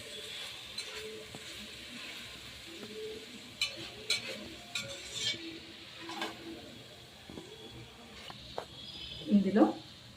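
Spoon stirring chili powder, coriander powder and garam masala into hot oil for veg pulao, soft scraping and faint sizzle running continuously, with a few louder clinks near the end and a voice speaking over it.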